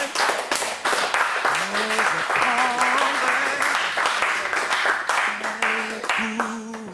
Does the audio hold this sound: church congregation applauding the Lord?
yes